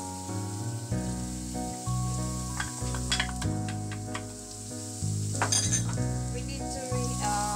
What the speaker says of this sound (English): We need to cook the garlic, guys, until a little bit golden brown.